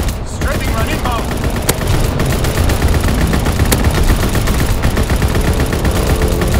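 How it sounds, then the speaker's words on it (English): Loud, continuous automatic fire from a strafing run in the video game Call of Duty: WWII, relentless rapid bursts layered with sharp cracks and rumbling impacts, close and dense throughout, with a voice heard briefly near the start. "Strafing run inbound."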